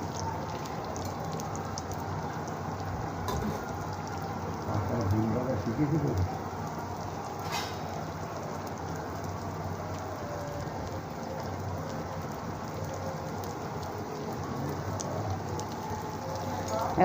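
Bora deep-fry in oil over a gas stove, a continuous dense crackling sizzle like steady rain, fairly loud and close, swelling slightly around the middle.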